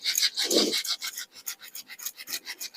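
A dirty, blackened stove burner is scrubbed by hand: close, rhythmic rasping rubs in quick repeated strokes, loud and alone with no talk.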